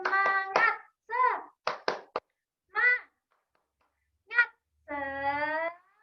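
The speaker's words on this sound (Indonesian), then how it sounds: "yuk kita melakukan tepuk semangat terlebih dahulu" Rhythmic hand clapping for the 'tepuk semangat' chant in a classroom, several separate bursts of claps spaced across a few seconds, mixed with children's chanting voices.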